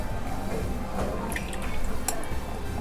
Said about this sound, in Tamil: இந்த டைமில் நம்ம ஒரு 1/4 கப் அளவு உருக்கின பட்டரை வந்துட்டு இதில் சேர்த்துக்கலாம்